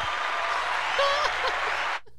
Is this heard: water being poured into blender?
no